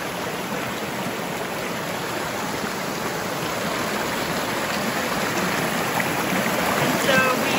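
Water tumbling over rocks at a good-sized waterfall gives a steady, dense rush that stays even and fairly close throughout, with no voices.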